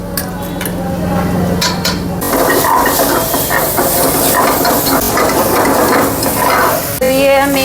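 Onion and ginger fry and are stirred in a pan, a loud, close sizzle with scraping stirs and metal clinks, and a voice speaks briefly over it.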